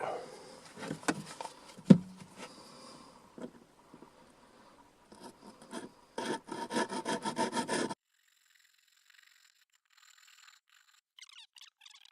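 Plastic is cut by hand to fit a camera lens mount, an M12 lens holder on a Parrot Disco drone. Close, uneven rasping and scraping strokes come in short bursts, ending with a rapid run of sawing strokes before near silence.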